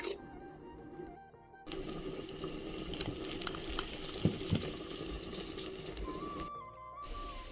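Egg frying with pumpkin flowers in a pan, a faint continuous bubbling sizzle with a few small pops, briefly cutting out at the start and near the end.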